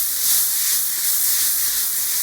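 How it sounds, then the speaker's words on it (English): Steady bright hiss of shakshuka sizzling in a hot pan, continuous and close, with no voices. "Can you hear the sizzle?"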